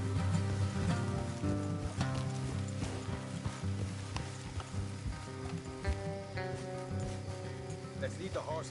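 Horses' hooves clip-clop at a steady walking rhythm in Red Dead Redemption 2, mixed with game music and ambient sounds, while characters talk over them throughout.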